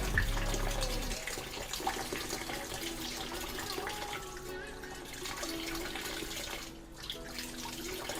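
Tap water running steadily while pig trotters are washed in a sink, a continuous splashing rush that shifts in tone as the stream hits the meat and basin, with no one talking.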